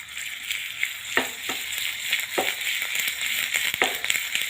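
Ginger garlic paste sizzling in hot oil, a close, crackling fry with several sharp stirring clatters against the pan breaking through the steady hiss.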